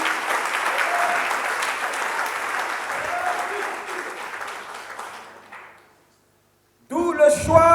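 A church congregation at a Sunday worship service applauding the Lord, sustained loud clapping that fades out, followed by a pause and then a voice speaking.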